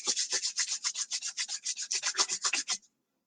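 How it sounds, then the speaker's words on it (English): Palms rub briskly together in a quiet room, a soft rhythmic rasping of about twenty quick strokes over nearly three seconds, close and alone, then silence. "rub your hands together."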